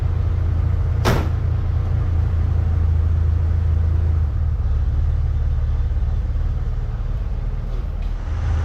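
A 1963 Chevrolet Corvair engine idling steadily after a fuel system update, a constant low drone close by with one brief sharp knock near the start.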